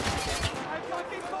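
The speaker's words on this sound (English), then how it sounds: "We're taking some heavy fire here!" Heavy gunfire from the military shooter game Spec Ops: The Line, a dense burst of overlapping shots and impacts that cuts off after half a second, leaving a rough battle din under shouted voices.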